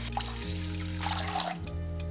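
Water pours into a clay pot over rice seasoned with salt, soy sauce and sake, a steady close trickle and splash lasting about two seconds with no talking.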